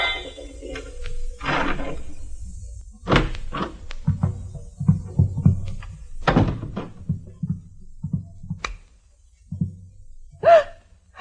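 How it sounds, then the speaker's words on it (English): Radio drama effect of a key turning in a door lock inside a country cottage: sparse metallic clicks and dull thunks of the latch and door, followed by a sharp startled gasp, in an otherwise quiet room. "The sound of a key in the lock of the door."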